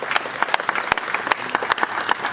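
A ceremony crowd breaks into loud applause for a portrait unveiling by the state governor, with sharp individual claps punching through an uneven, lively patter.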